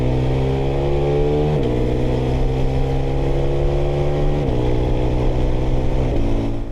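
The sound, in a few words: KTM 390 Adventure R motorcycle engine accelerating, quickshifter gear changes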